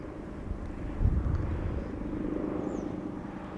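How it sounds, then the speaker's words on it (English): A distant aircraft on approach to a runway at Schiphol Airport rumbles low and steady, swelling briefly in a soft engine drone with no talk over it. "Going to the glide slope of runway 22, break off, landing to runway 24."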